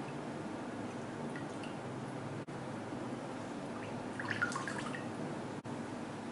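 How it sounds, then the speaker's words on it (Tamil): Water drains from soaked chenna, fresh curds being prepared for rasmalai, giving a faint, steady wet trickle with a few soft drips, close and quiet with no one talking. "நல்லா தண்ணி ட்ரெயின் பண்ணிக்கோங்க."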